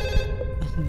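A telephone rings in the horror video game Fatal Midnight, a steady electronic ring with layered harmonic tones that runs continuously and loudly through the moment over a low game ambience.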